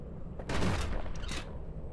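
A gun fires in the video game Bastion, a short cluster of rapid shots blending into a booming burst of about one second over low background music.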